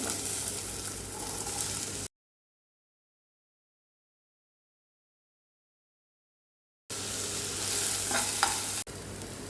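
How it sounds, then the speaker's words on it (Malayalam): Chopped onions and green chili sautéing in a pan, giving a steady close sizzle with stirring scrapes, broken by a long stretch of silence before the frying noise returns. "ഒരു രണ്ട് സവാള പൊടിയായിരുന്നു ഒരു പച്ചമുളക് പൊടിയായിരുന്നു എടുത്ത് ഒന്ന് വഴറ്റിയെടുക്കാം"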